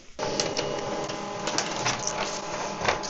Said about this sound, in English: tap on print and wait for printer to do its job